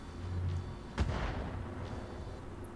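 Weapons fire in the mech combat video game Battletech: one sharp, heavy artillery-like blast, followed by a rumbling decay over a low, steady background hum, with no talk.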